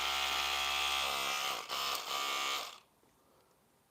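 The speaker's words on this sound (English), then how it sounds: "inside this machine, there are 2 crochet hooks that is pulling just like the crochet hook on here" A dreadlock loc repair machine with two internal crochet hooks pulling hair whirs with a steady high electric buzz, briefly dipping, then cutting off before a short final burst.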